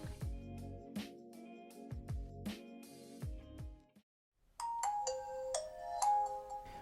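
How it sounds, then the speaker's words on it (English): Nokia 5310 phone startup tune on boot: a bright chiming melody of repeated bell-like tones, a low rhythmic phrase first, a brief silence, then a higher sparkling run of ringing notes, loud and close. "let's boot the device to hear the magical sound that we all love"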